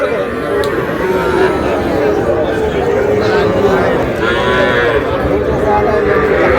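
Bull calf and other cattle mooing amid a crowded outdoor cattle market, a couple of long low calls half buried under constant loud chatter and shouting from traders close by.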